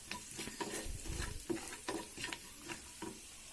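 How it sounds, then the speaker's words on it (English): Curry leaves crackle and sizzle in hot oil while being stirred for an egg masala, with soft scraping stir strokes and faint sputtering pops close by. "To that I'm going to add the curry leaves"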